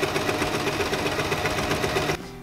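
Sewing machine running steadily and loudly while stitching a fabric seam for a tea cosy, a continuous rapid mechanical hum that stops abruptly near the end, leaving quieter room tone.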